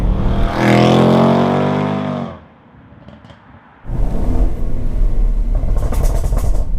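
A Range Rover SVR accelerates hard with a loud, rising engine roar, drops away briefly, then comes back with another strong, rumbling pull. It is up close and no one speaks.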